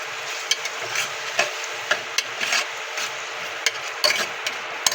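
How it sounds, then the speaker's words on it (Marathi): Khichdi being stirred and mixed with salt in a pot, a spoon scraping in soft, irregular strokes with brief clinks, close and fairly quiet with no talking. "हे छान असं मिक्स करून घ्यायचं आहे"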